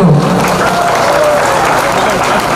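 An audience at the 21st Buisu Festival of the Tripuri community breaking into loud, sustained applause, a dense wash of clapping hands that carries evenly throughout, with a voice faintly present beneath it.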